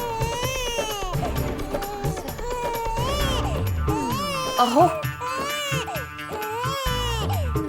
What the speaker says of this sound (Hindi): ये तो बच्चे के रोने की आवाज है।